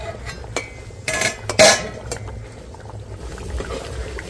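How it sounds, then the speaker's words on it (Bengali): Off comes the metal lid of a pot of khichuri cooking on the stove, with a few light clinks and then a louder clattering knock of metal, over a quiet kitchen background. "আর একবার ঢাকনাটা খুলে নিচ্ছি।"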